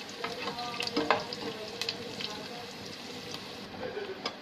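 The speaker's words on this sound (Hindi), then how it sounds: "ये प्याज है इसे थोड़ा सा लाल करेंगे, लाल कर लेना है" Onions frying in a pan until reddish for chicken kabsa, a steady close sizzle with occasional stirring scrapes, and a voice talking over it at times.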